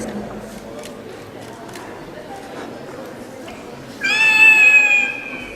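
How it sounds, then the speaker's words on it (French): At a cosplay parade, a single drawn-out cat meow rings out clearly near the end, rising above a low crowd murmur that fills the rest of the moment. "Tout le monde aime les chats et les petits chatons."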